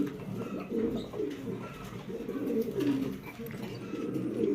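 Racing pigeons at a pigeon farm give a steady run of soft, throaty cooing, several birds overlapping close by with no pause.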